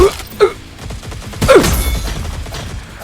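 Rapid gunfire in the online shooter Cyber Hunter, a loud close burst of shots layered with game effects and sharp impacts.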